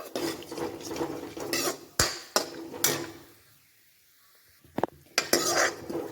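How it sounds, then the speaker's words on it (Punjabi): Spoon clinks and scrapes against a pan as spices, mustard seeds and fennel are stirred together, coming in sharp irregular clatters with a brief quiet pause before a few more knocks. "ਥੋੜੀ ਜੀ ਸੌਂਫ ਇਹਨਾਂ ਸਾਰਿਆਂ ਨੂੰ ਮਿਕਸ ਕਰ ਦਾਂਗੇ"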